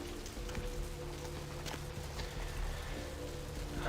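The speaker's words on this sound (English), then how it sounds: "It's raining." Steady rain in a video game pattering on surfaces with occasional sharper drops and light taps, fairly quiet and even, no voices.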